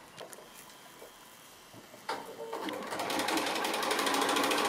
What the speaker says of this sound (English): So I'm just going to go to the sewing machine now and just stitch that on.